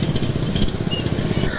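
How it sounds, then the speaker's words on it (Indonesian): A diesel engine running on Petronas Motolub CS3 20W40 oil idles smoothly, a steady low rumble with a fine, even pulse, close and fairly loud over a short stretch. "Untuk idling juga suara mesin halus"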